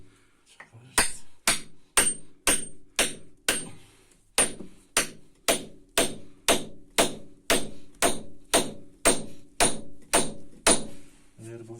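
A hammer strikes a chisel against a rock tomb in about twenty sharp, ringing metallic blows at an even, steady rhythm, loud and close, with brief pauses between a few strokes.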